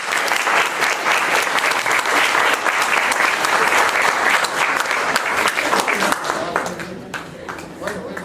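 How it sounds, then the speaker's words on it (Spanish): An audience at a university law faculty lecture breaks into loud, sustained applause that thins out and fades toward the end, with some murmuring and voices mixed in. "Un aplauso para él."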